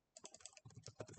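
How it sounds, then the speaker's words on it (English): Quick bursts of laptop keys clatter close to a built-in microphone, a run of light, uneven taps and clicks in a quiet room. "If you hear me hitting my keyboard"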